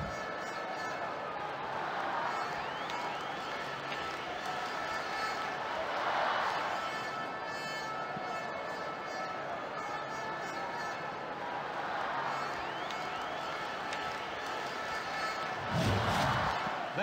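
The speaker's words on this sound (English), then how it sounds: "the crowd are well behind their team now they've got their goal" A stadium crowd roars in a football video game after a goal, with a continuous wash of cheering that swells in waves, steady and loud from start to end.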